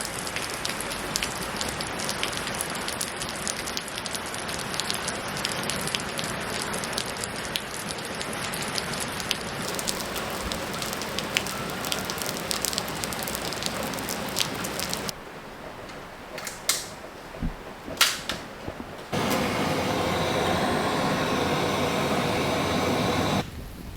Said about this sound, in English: it looks like it's gonna start raining pretty soon